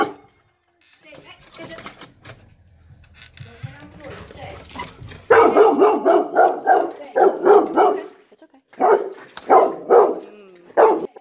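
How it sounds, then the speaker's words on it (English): A territorial dog gives offensive threats, starting with a low growl and then breaking into loud, repeated barks in quick bursts, close by. "This is a dog giving offensive threats."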